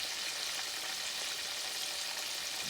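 Catfish belly meat fries in hot oil, giving a steady, dense sizzle that stays close and even throughout, with no voices.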